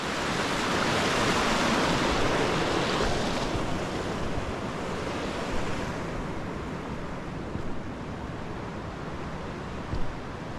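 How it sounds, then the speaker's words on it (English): A mountain river on Mt. Kenya rushing downstream, a continuous broad roar of flowing water, loud and steady throughout with no talk. "So this allows this river to just flow all the way downstream."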